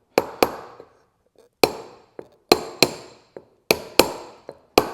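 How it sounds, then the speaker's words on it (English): Sharp metal hammer strikes on a copper or brass punch, driving a brake part evenly into place on an Austin-Healey Sprite, come in irregular pairs and singles, each a crisp close impact with a short ring, with no talking. "you can take a copper or brass punch and kind of work your way"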